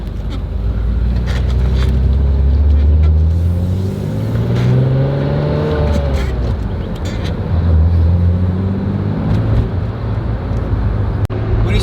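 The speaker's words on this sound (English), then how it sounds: "Let's take it out for a little drive and put some heat into this motor" A BMW M Roadster engine rumbles loudly and continuously, rising and falling in pitch as it revs through gears while driving, with no talking.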